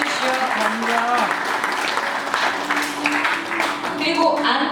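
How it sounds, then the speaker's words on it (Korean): Sustained applause from a seated crowd at a Korean book launch as three former alumni association presidents rise to be introduced, with a voice talking over the clapping throughout. "박수 받아주십시오."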